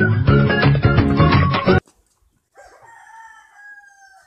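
A rooster crows in the GTA video game, a short clear call that comes after a loud burst of music cuts to a brief silence, the crow sitting alone at moderate level.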